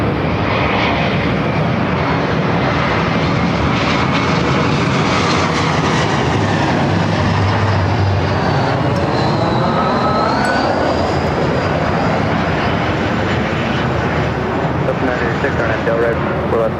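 A Korean Air Boeing 747-8i heavy jet lands at LAX, a loud sustained engine roar that swells and shifts in pitch throughout, with radio voices talking over it.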